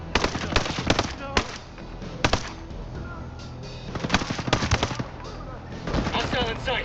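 Bursts of automatic and single gunfire in the video game Ghost Recon Breakpoint, sharp cracks in rapid clusters spread across the clip with brief lulls, loud and close.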